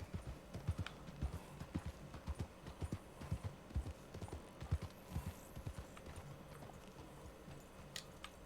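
Hooves clip-clop in a steady walking rhythm in Red Dead Online, fairly close, with a few softer shuffles and a brief snort, no talking.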